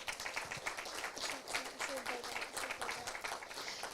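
A conference audience applauds, a dense patter of many hands clapping at moderate volume in a hall, with a few voices mixed in.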